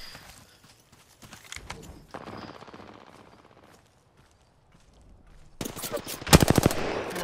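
Video game gunfire in a squad battle comes as rapid bursts of shots, sparse and scattered at first, then a dense, loud volley near the end, with talk mixed in.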